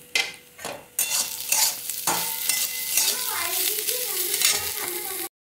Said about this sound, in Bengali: তো এবার আমি এটাকে খুব ভালো করে একটু ভেজে নেব।